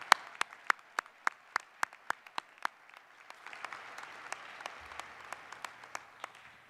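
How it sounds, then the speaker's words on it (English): Audience applause at a University of Louisville School of Dentistry graduation ceremony, starting as a few distinct sharp claps in a steady rhythm, then swelling into a softer, fuller wash of many hands clapping in the hall. "So a special round of applause for Dr. Yayevek and her team."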